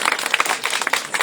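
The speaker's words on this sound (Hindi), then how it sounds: "किसान भाइयों उनका ताली बजा के स्वागत करें" A crowd of farmers claps in welcome at a political gathering, a brief dense burst of many hands clapping at once.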